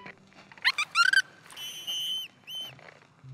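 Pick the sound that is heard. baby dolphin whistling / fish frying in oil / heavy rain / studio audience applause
baby dolphin whistling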